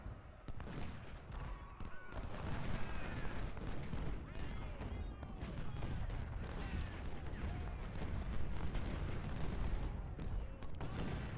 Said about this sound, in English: So I set one of them, the one on the right, to shoot canister fire